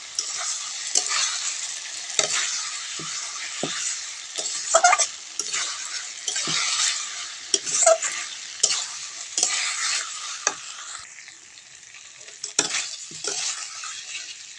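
Fried potatoes stir-fried with spices in a pan for an egg curry, a steady close sizzle broken by frequent scraping strokes of a spatula against the pan, with no voices.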